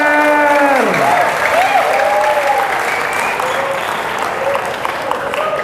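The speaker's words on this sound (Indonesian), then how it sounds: "Tepuk tangan buat TKR." Students clapping in a school hall for the TKR automotive department, loud sustained applause with a voice trailing off at the start and a few scattered shouts.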